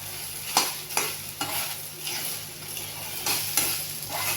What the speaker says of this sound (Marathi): अजून हिला परतून घ्यायची अजून ही चिकटच आहे सारखं हलवायचं